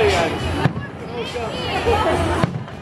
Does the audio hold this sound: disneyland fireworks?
yes